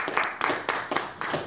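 A church congregation claps together in a steady rhythm, with about six crisp claps in quick succession heard faintly in the hall.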